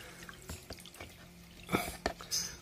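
Water trickling and dripping into a potted cactus, a few soft splashes and drops spaced irregularly, faint and close over a quiet room.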